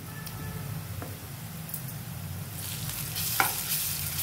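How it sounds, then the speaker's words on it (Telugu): Ginger garlic paste sizzles steadily in hot oil in a pan while a spoon stirs it, with soft scraping clicks over a continuous moderate frying hiss. "ఒక స్పూన్ అల్లం వెల్లుల్లి పేస్ట్ వేస్తున్నాను."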